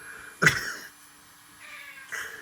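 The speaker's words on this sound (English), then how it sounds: "I've got a cat that she wants to participate." A cat gives a short, sharp meow close by, followed after a pause by a couple of quieter, softer meows.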